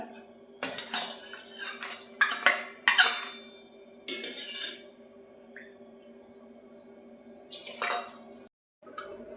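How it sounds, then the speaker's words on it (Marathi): A spoon stirring sugar in a metal container while making kharvas, a Maharashtrian colostrum-milk pudding: irregular clinks and scrapes in short bursts, with quiet gaps and a low steady hum behind. "मिक्स करून घ्यायची साखर अशी साखर मिक्स करून घेतली आहे"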